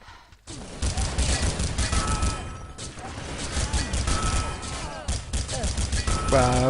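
Rapid bursts of UMP submachine-gun fire from a competitive video game match echo almost continuously, loud and dense, with a commentator's voice running underneath.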